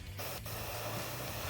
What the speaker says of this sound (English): we're gonna gently spray into the crevices here